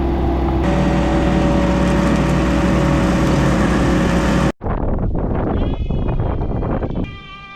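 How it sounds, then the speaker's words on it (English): A tractor's mower deck kicks on to cut grass around an electric-fenced pasture, a loud steady engine-and-blade drone that cuts out briefly, then resumes with a higher whine. "So we're gonna kick on the mower deck and mow us a square around."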